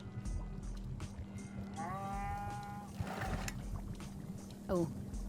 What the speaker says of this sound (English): I heard the moo.